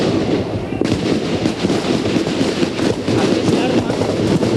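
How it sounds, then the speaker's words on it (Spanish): Gunshots ring out in front of the San Salvador cathedral during a 1979 coup, with dense rapid cracks and bangs over a constant loud roar of crowd noise and commotion. "han sonado unos disparos"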